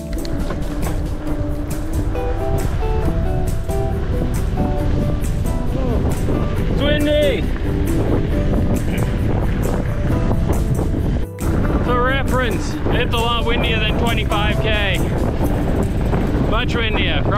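Strong wind of about 35 to 40, gusting higher, buffets the microphone in a constant loud roar on a mountain bike trail ride, with someone talking over it.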